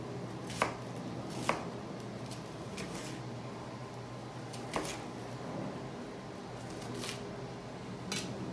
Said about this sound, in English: And just give it a little chop.